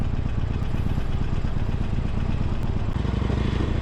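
A Harley-Davidson Sportster, a 2020 Iron 1200, idles at a stoplight on a hot day, its engine giving a loud, close, continuous low rumbling throb with a steady loping pulse.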